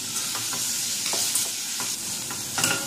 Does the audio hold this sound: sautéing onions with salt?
yes